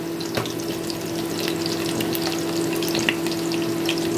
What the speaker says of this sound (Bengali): আর এই ডাঁটাগুলোকেও আমি 2 মিনিটের মতো এই তেলের সাথে ভালো করে ভেজে নেব।